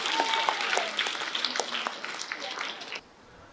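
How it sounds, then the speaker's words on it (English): Audience applause for a performer dressed as Batman at an air show: a steady burst of clapping from a crowd that holds for about three seconds, then cuts off abruptly. "Big clap, please, for Batman."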